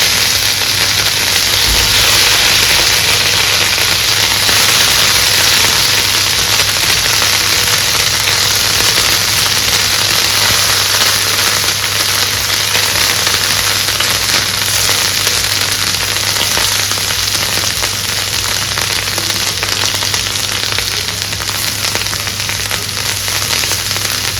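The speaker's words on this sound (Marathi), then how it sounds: "तेल छान गरम झाल्यानंतर ह्यामध्ये एक एक बोंबील सोडून फ्राय करून घ्यायचे आहे" Bombay duck (bombil) fish frying one by one in hot oil in a pan, a steady loud sizzle and crackle with frequent popping spatters running throughout, with no talking.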